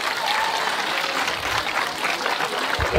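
Audience applause at half-time of the RoboCup 2023 Kid Size league final robot soccer match, a steady wash of clapping throughout with a slight swell near the end.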